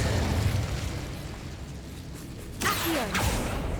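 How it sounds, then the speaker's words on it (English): Incendio fire spell cast in Hogwarts Legacy on PS5, a fiery whooshing burst that flares up partway through after a stretch of rumbling in-game ambience, loud and close, with no talk. "I keep casting Incendio eventually."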